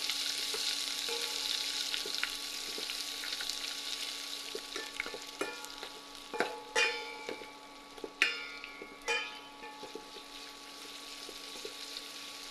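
A polos (young jackfruit) curry is stirred in a pot over a faint bubbling simmer, with a few soft clinks and scrapes of the spoon, quiet and close, no talking.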